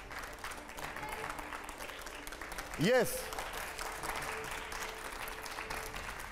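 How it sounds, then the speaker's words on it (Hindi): Steady applause from a TV studio audience during an interview show, a dense, even clatter of clapping throughout, with a brief spoken word and a swooping electronic tone near the middle. "अगले सवाल के लिए जोरदार तालियां हो"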